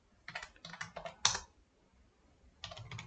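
Code being typed on a computer keyboard, with bursts of rapid, close key clacks, a pause, then another short flurry of typing, no talking.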